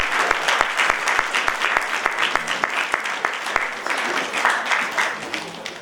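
Steady audience clapping fills a university convocation hall during a doctoral degree ceremony, a dense, continuous applause with individual sharp claps standing out, lasting several seconds.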